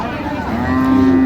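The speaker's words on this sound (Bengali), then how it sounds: "আর আমরা দেখছিলাম এখানে একটি গাভী বাছুর" A single cow moos loudly and close by, a long low drawn-out call that swells slightly toward the end.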